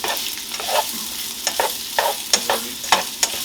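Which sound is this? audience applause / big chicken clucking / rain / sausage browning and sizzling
sausage browning and sizzling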